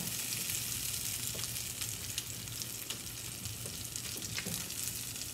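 Beans being mashed in a hot pan for refried beans, a steady close sizzle broken by soft intermittent taps and squishes of the masher.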